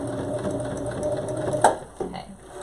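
A sewing machine stitches a reusable cloth face mask, a steady close mechanical whir running for a few seconds with a brief sharper clack near the end as it slows.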